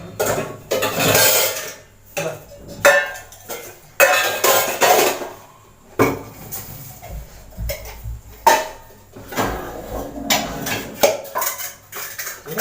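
Pots, pans and dishes clank and clatter nearby in irregular bursts as a kitchen is cleared and organised, with short quiet pauses between the handling.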